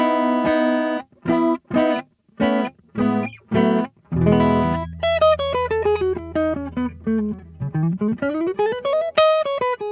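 Electric guitar played through a Line 6 HX Stomp amp preset on a clean setting, first as several short separate strummed chords, then a ringing sustained chord and picked melodic notes sliding and bending, with no breakup.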